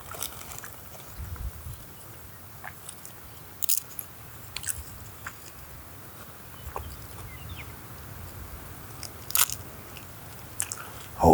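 Someone eats Doritos chips outdoors during a turkey hunt on South Dakota public land. Sparse, sharp crunches and bites come close to the ear over a quiet background, a few seconds apart.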